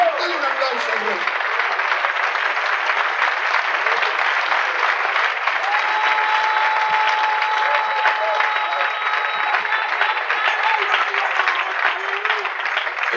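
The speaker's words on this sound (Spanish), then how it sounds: "Dale un aplauso al rey." A church congregation applauding during a sermon, dense continuous clapping that stays loud and even for over ten seconds, with voices and cheering mixed in.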